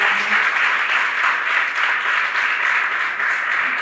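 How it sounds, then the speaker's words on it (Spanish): Steady, dense applause from a conference audience following a talk, sustained and fairly loud with no gaps. "un aplauso antes de empezar a las preguntas"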